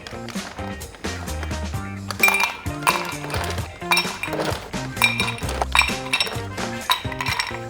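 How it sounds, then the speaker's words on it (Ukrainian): Ice cubes clink and clatter into a serving glass for a cold coffee drink in repeated bursts, bright hard knocks, close and fairly loud, with music playing underneath. "В посуд для подачі нам треба наповнити льодом."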